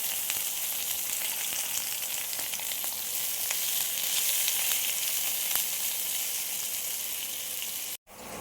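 Onion sizzling steadily in hot oil, a continuous loud hiss with faint crackles and no pauses until a sudden brief cut near the end.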